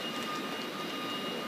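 Steady interior rumble aboard a moving GWR HST (InterCity 125) passenger train, a continuous broadband roar with faint high hiss and no distinct wheel clicks, heard alone.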